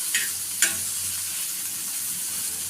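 Okra frying for a dry sukha stir-fry, giving a steady close sizzle throughout, with two brief scraping stirs near the start.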